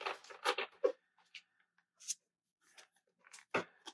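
A stiff new tarot deck is shuffled in scattered bursts of crisp card riffles and soft slaps, close by and fairly quiet, with pauses between the handfuls.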